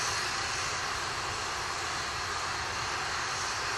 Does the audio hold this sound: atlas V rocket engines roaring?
yes